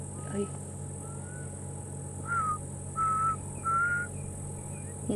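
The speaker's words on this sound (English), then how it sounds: "in the background I can also hear one of the other cuckoos who's come back" A distant African black cuckoo calls in a short series of clear whistled notes, repeating several times over a quiet, steady background hum.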